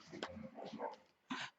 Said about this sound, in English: So if you hear any growling or nips or yelps, they didn't mean to hurt each other